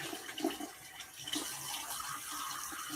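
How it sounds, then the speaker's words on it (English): Water rinsing and running during a facial treatment, a soft steady wash with a couple of small splashes, fairly faint and close. "you're gonna wash that out."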